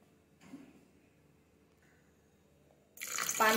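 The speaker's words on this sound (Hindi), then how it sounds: "पानी डालेंगे।" Water is poured into a strawberry-flavoured shake with ice, turmeric syrup and sugar, arriving as a brief, close splashing gush after a quiet stretch with faint kitchen clinks.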